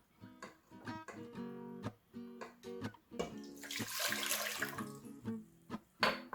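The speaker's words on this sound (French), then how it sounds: "je mets 1 litre d'eau" Water poured into a vessel to make a vinegar brine for Thai vegetable pickles, a gurgling, splashing stream that swells into a steady rush, heard close up.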